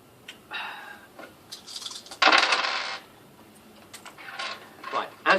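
Dice tumble and clatter across a table during a live fantasy tabletop role-playing game session, a few rattling bursts with one louder roll in the middle, amid faint room noise.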